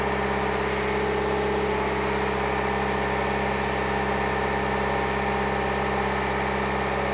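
BMW diesel car engine (730d/740d-type) held at a raised 2000 rpm, a loud, steady drone with a strong low hum and unchanging pitch, continuous with no talking.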